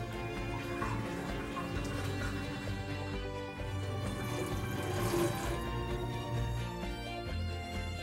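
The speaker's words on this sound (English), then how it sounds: "Wait for the water bath to drain." A pump drains a laboratory dissolution water bath, giving a steady, fairly quiet trickling and running water sound over a continuous low mechanical hum, unbroken throughout with no voices.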